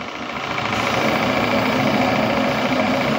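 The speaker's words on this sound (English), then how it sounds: "Burner is coming up." A burner roars at full throttle during a test run, a loud, steady, close rumbling blast with a faint rapid pulsing throughout and no voices over it.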